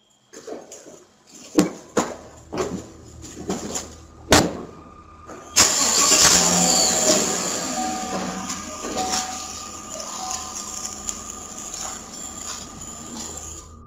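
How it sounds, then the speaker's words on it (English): A red truck in a garage cranks a few times with clunks, then its engine catches and settles into a steady running rumble that gradually fades as it moves off, with no talking. "He later leaves in that truck."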